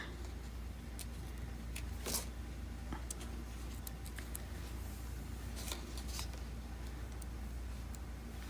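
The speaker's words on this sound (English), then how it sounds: "let me get my X-Acto knife. All right, now I'm gonna weed it" An X-Acto knife weeds excess vinyl away from its backing with faint scratching, peeling and occasional crisp ticks over a low steady hum.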